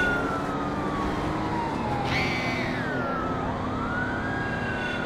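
A police siren wails continuously in the Midnight Club 2 street race on PlayStation 2, its pitch sweeping up and down over steady engine drone, fairly close and persistent throughout.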